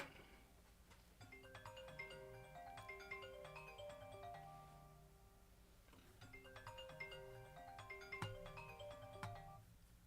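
A phone rings with a melodic ringtone for an incoming call, two repeated tune phrases playing fairly softly and steadily, with no talk over it.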